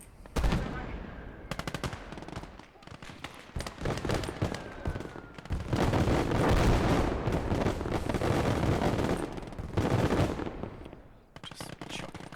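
Artillery shelling and gunfire in the Call To Arms: Gates of Hell war game, with dense machine-gun bursts and heavy booming blasts. Loud, continuous combat noise with short lulls between barrages.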